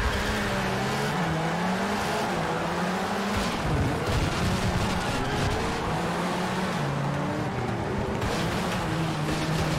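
Several rally cars race in V-Rally 4 against Hondas, engines droning and revving loudly with rising and falling pitch as gears shift, a continuous close roar.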